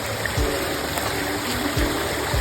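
A waterfall beside a trail viewpoint roars steadily as a broad, continuous wash of falling water, with a few low thumps of handling noise and no talking.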